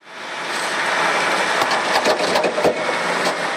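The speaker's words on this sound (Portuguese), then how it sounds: "A moto niveladora teve de dirigir 10 quilômetros com o pneu completamente estourado até o posto de serviço." A motor grader's engine runs steadily and loud while the machine drives on a completely blown tire, with irregular knocking and thumping bursts over the continuous drone.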